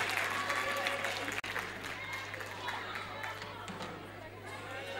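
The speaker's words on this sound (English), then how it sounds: "Please have the round of applause for sir only." Audience applause at the VISAGE 2012 event at G.L. Bajaj, a steady broad wash of clapping and crowd noise lasting the whole stretch, with a low mains hum underneath and a brief dropout early on.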